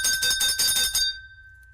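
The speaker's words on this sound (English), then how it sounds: "There's the damn bell." A bell rung rapidly about six times in a quick even rhythm, bright metallic strikes close and fairly loud, then a clear ringing tone fading out alone.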